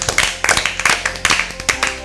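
Applause for Team A during an Easter Bible quiz show: a short burst of crisp, irregular hand claps from a small group, close and fairly loud, with no talking over it.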